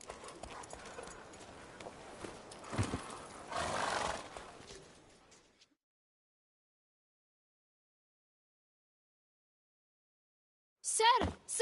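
Roach, a horse in The Witcher 3, clops along at a gallop for several seconds with a brief snort or whinny. The hoofbeats are mid-loud and then give way to silence, and a short burst of sound follows near the end.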